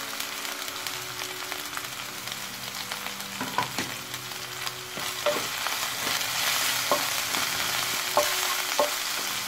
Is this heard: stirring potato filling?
yes